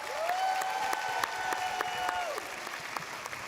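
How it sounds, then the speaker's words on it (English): Sustained applause from a convocation audience honouring graduates' families and friends, dense steady clapping filling the hall, with a sustained tonal note from the venue sound running alongside for a couple of seconds before fading. "Let's give them all a very big round of applause."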